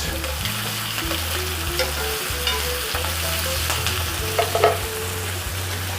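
Onions fry alongside kielbasa in a pan with a constant close sizzle, an occasional utensil scrape, and a low electrical hum running beneath.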